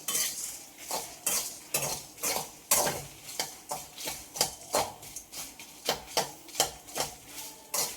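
Shallots are stirred in a hot pan for a homestyle chicken curry, with a spoon scraping and clinking in quick rhythmic strokes over a soft sizzle, close and with no talking.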